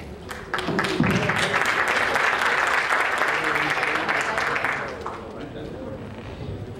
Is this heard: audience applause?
yes